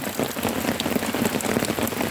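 Steady rain falls on a surface, a dense and even patter of drops that runs the whole time without pause, moderately loud and close.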